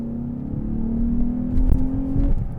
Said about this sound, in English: just downshift it with the paddle shifters, get a second gear, and